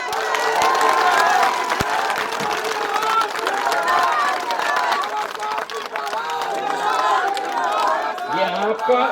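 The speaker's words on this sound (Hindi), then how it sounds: "ताली बजाओ।" A large crowd at a public meeting in Chilod, Shivpuri, Madhya Pradesh claps and cheers. The noise is dense and continuous for about nine seconds, mixed with a loudspeaker voice and shouting.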